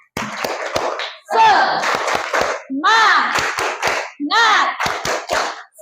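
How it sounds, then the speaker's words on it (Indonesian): A school class clapping together in a rhythmic cheer after a count of three, with sharp, evenly spaced hand claps between bursts of children chanting in unison. "Sekarang kita tepuk semangat bersama-sama, hitungan ketiga ya."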